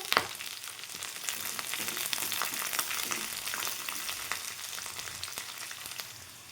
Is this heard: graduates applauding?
no